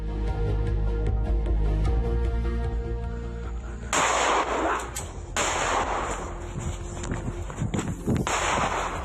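Bursts of sharp police warning gunshots crack over loud, dense background noise during a chase on the Cipali toll road, Majalengka, West Java, several shots in irregular succession, fairly close.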